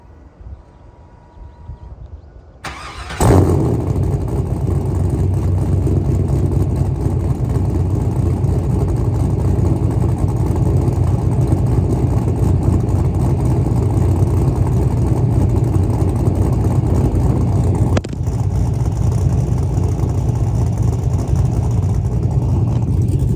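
A 4th-generation Camaro fitted with long-tube headers and true dual exhaust starts after a quiet moment with a sharp crank, then rumbles in a loud, deep, steady idle close by for the rest of the time.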